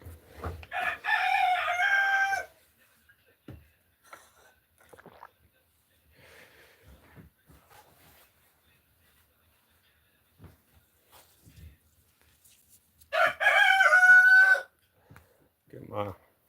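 A rooster crows twice, loud and nearby, one call at the start and another about twelve seconds later, with faint scattered knocks and rustles between.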